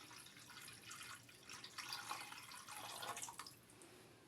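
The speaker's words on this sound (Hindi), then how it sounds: "ये देखें, पानी डाल दिया हमने" Water splashes and trickles steadily into a cooking pot, fairly faint, with the flow swelling and easing over a few seconds.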